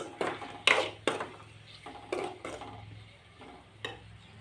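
A spoon stirs a country-chicken curry mixture with salt in a pot, making a series of separate scraping and knocking strokes at an uneven pace. The strokes are fairly quiet and there is no talking.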